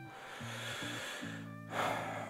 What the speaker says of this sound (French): Il y a le ventilateur qui fait un bruit pas possible.